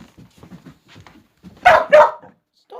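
A dog gives two loud, close barks in quick succession after a stretch of quiet talking, with a small yip at the very end.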